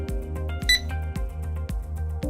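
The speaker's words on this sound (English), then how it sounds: "the device will automatically capture an image alongside a beep sound" Gold metal detector emitting a steady repeating electronic beep pattern, with a short brighter chime burst near the start, loud and close with no talk.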